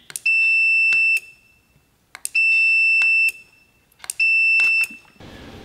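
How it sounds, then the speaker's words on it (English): A multimeter gives its continuity-test beep as a remote start button is pressed, three loud steady tones of about a second each separated by short gaps, with small clicks before each. "we can press the button, and we should hear a beep."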